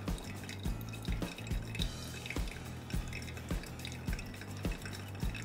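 Hot water poured over coffee grounds during pour-over brewing, giving a steady trickling and dripping with soft rhythmic splashes, close and moderately loud with no talking.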